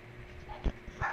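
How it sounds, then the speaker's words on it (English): A small Pomeranian dog gives a couple of faint, short yips indoors, quiet and brief against a calm background. "It's a Pomeranian."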